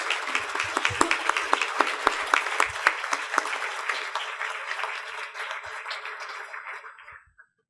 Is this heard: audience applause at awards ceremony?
yes